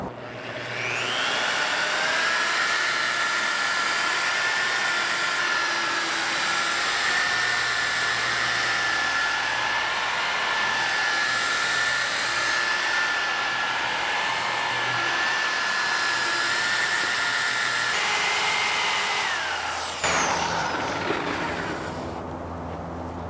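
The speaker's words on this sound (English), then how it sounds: "Be careful because it's gonna wanna kick back on you, so you wanna use a lot of strength to hold the buffer." A handheld power buffer polishes a plastic linear Fresnel lens, holding a loud steady high-pitched whine for about eighteen seconds before spinning down abruptly, with no talking over it.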